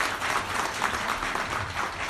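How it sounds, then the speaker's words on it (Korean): A lecture audience applauds together, a steady, moderately distant patter of many hands clapping that holds evenly for about two seconds. "다시 한번 큰 박수 부탁드리겠습니다."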